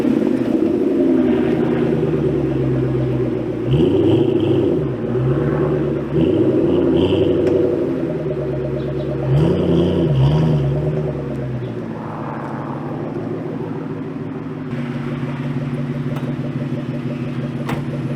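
A car pulls away on a test drive, its engine rumbling steadily with a few revving swells and gear changes, loud and close throughout, with no talking.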